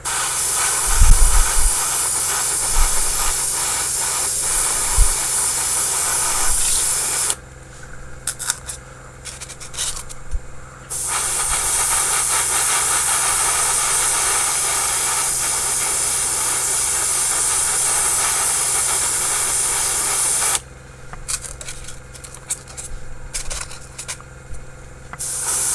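Spray painting the first light coat on a Tamiya 1/35 Sturmpanzer IV Brummbar model: long, loud steady hissing bursts from the spray gun, two extended sprays separated by quieter pauses with faint clicks, no voices.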